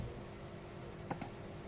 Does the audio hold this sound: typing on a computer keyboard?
yes